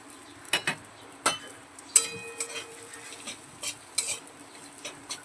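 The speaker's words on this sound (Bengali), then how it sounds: "এবারে আমরা ড্রাই ফ্রুটসটা ঘিয়ের মধ্যে দিয়ে দেব" Dry fruits stirred in hot ghee in a pan for a sugar-free protein halwa, with sharp spoon-against-pan clinks at irregular intervals over a soft, low sizzle; no voices.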